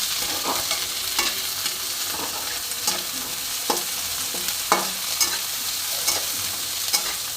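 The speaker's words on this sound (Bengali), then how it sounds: "পেঁয়াজের সাথে কড়াইশুঁটিটা একটু ভেজে নেবো হালকা করে" Green peas and onion frying in a wok, a constant close sizzle broken by regular scraping clicks of a spatula stirring, with no talk.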